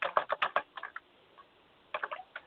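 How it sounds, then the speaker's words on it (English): Computer keyboard clatter comes through an online call as quick bursts of keystrokes, then a pause, then another burst, close and crisp with no voices over it. "Jeanie, maybe we could mute wherever the typing's coming from"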